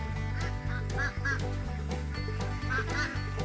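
Ducks quack in repeated bursts over a steady, loud rhythmic music bed that nearly swamps them.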